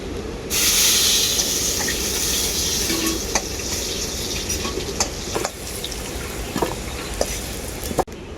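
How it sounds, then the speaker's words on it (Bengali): Potatoes fry in oil until well browned, the sizzle starting abruptly and then running as a dense, even hiss, broken by scattered sharp pops and spatters and a few clatters near the end. "আলুটাকেও আমি খুব ভালো করে ভেজে নিয়েছি একদম লাল লাল করে"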